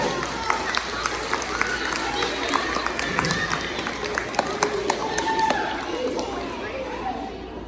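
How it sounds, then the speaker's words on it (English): A crowd gives a round of applause for a volunteer called up on stage, steady clapping with scattered sharp claps and cheers running the whole time, mixed with chatter and voices. "Big round of applause, everybody"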